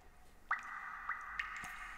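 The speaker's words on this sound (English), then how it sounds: "Just listen to the water drops." Water drips echo inside the game Scanner Sombre, a few separate plinks spaced out over a steady ambient hum, each with a ringing reverberant tail.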